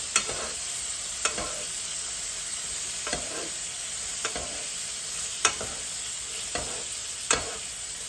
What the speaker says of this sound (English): Tilt it a little bit so that your butter can melt and you can scoop it with the spoon.